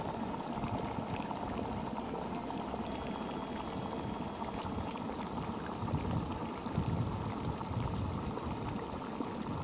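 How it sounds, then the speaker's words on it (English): Boiling water bubbling and churning up mud in a drying mud hot spring, with steam venting; a steady, close, continuous seething and gurgling with no talk. "That boiling water comes up and stirs up a little mud, and it always cooks a bunch of bugs"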